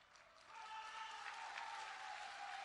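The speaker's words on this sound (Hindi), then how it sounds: "ये देखो महिलाएं ताली बजा रही हैं।" Steady applause from women in a crowd at a political rally in India, dense and continuous, swelling slightly after the first half second and holding at a moderate level.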